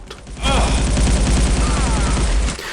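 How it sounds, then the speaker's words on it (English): Gunfire from the 1998 first-person shooter SiN: a dense, continuous stretch of rapid shots and booming impacts with a rumbling low end, loud and sustained for about two seconds before tapering off, with no speech. "The gunfire lets you know where they are."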